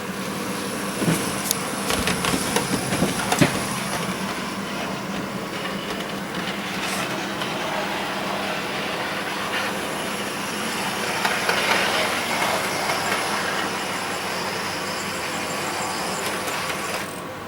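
A model railway Class 31 diesel locomotive runs along its track toward the points, giving a steady, faint mechanical hum with a few light clicks and knocks near the start.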